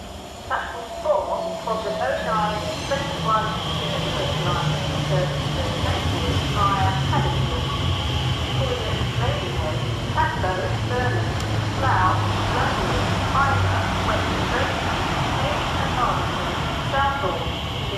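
A Class 345 Elizabeth line train, unit 345049, draws into Twyford station with a low rumble and a falling motor whine, brake hiss and squeal rising over the platform hum, while a voice talks throughout.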